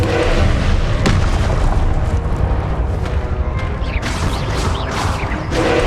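Confringo spell explosions in the video game Hogwarts Legacy: loud, dense booming blasts roll on continuously, with a few sharper cracks bursting through the rumble.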